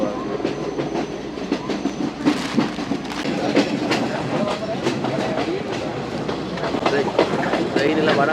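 A passenger train runs on rails in Sri Lanka, with steady clickety-clack rattling and rumbling carriage noise close by, while voices talk faintly in the background.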